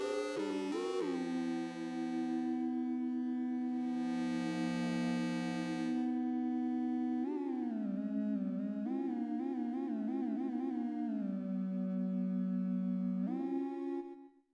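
A sustained, synthetic tone from a Computone Lyricon wind synthesizer with reverb, playing held chords and gliding pitch bends, loud and steady with no voices.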